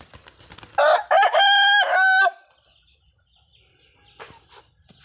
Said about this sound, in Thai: นี่อีกตัวหนึ่งครับไก่หนุ่ม ประมาณหกเดือน